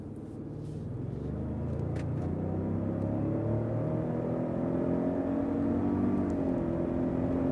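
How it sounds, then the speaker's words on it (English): A 2021 Lincoln Navigator Black Label's twin-turbo engine accelerates in sport mode, a steady rising whir and induction hum building smoothly from inside the cabin, moderately quiet throughout. "I love you can hear the induction from the twin turbos."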